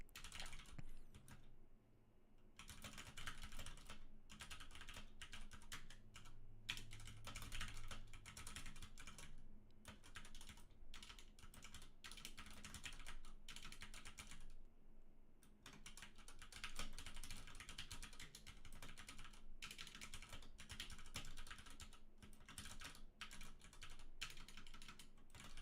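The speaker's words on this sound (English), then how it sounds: "So just finish typing in this to do before he moves on." Steady typing on a computer keyboard, a close run of quiet key clicks that comes in bursts with short pauses and goes on without talk.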